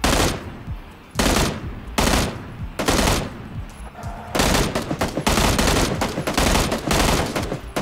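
Rapid automatic gunfire in the battle royale game PUBG: Battlegrounds, with several loud, dense bursts of shots separated by brief pauses, growing into near-continuous firing toward the end.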